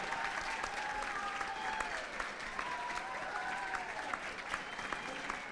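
An audience claps steadily through a live charity event broadcast, saluting a secondary school being awarded a bursary; the clapping is fairly quiet and distant, with a few whistles or cheers rising above it.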